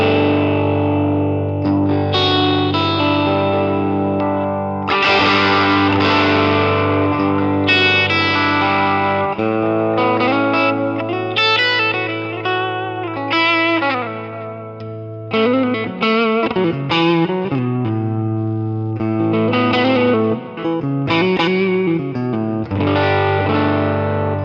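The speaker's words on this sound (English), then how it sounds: "let's see what the difference in sound and tone actually is when we're playing the guitar" An electric guitar runs through a Kemper Profiler MK2 unit, playing heavily distorted chords and sustained lead notes loud and up front, with no talking.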